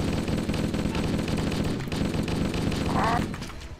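Rapid gunfire in the shooter game Halo Custom Edition, a near, dense burst of shots running steadily throughout under game sounds, with talk mixed in.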